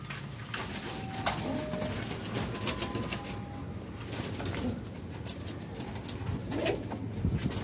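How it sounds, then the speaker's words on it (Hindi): Pigeons coo in low, throaty murmurs, several birds close by, over a steady background rustle and hiss. "ये भी कबूतर दूसरा कबूतर तीसरा कबूतर"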